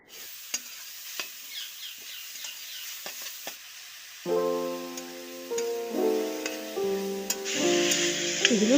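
Grated carrot, beet and boiled potato frying in oil in a wok for a vegetable chop: crackling sizzle with occasional stirring clicks, joined midway by loud tonal music.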